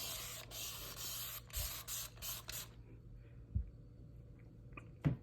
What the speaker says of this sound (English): I'm going to mist it down with alcohol